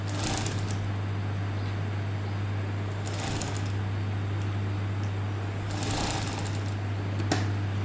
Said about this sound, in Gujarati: આપણે હંમેશા સેન્ટરથી જ એની સિલાઈ સ્ટાર્ટ કરીશું